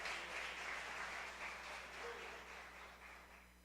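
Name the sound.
church congregation applauding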